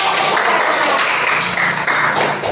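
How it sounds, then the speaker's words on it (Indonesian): A classroom of students applauds a presenting student group, with dense, continuous clapping held steadily for a couple of seconds before tapering slightly at the end. "berikan aplaus yang semangat untuk"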